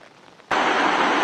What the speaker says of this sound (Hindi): लगातार जो बारिश है वो पिछले 2 दिनों से यहाँ पर हो रही है